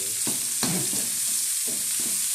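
Chopped onions hitting hot oil in a frying pan, giving a steady close sizzle with a few sharp clattering stirs on top.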